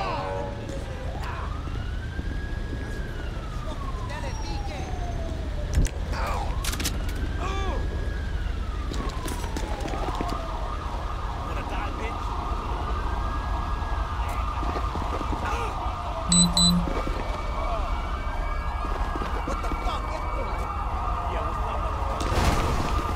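Wailing ambulance siren in the Los Santos video game, sweeping up and down in repeated loud cycles that shift into a faster yelp pattern, with a steady low engine-like rumble underneath throughout.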